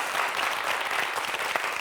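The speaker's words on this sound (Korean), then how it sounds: "박수 한번 주시고요" A studio audience on a Korean television show claps in a steady, dense round of applause, close and fairly loud, with no speech over it.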